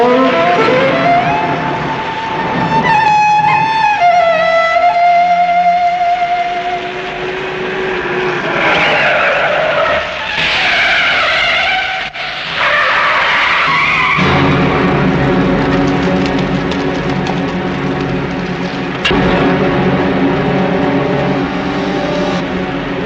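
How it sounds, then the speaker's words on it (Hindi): A car pulls away with tires skidding and squealing, long wailing screeches sliding in pitch over a loud revving engine, continuing for over twenty seconds with brief breaks and a harsher rumble toward the end. "ड्राइवर, गाड़ी चलाओ।"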